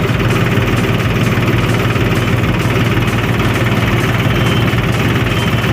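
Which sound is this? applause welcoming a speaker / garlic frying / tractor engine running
tractor engine running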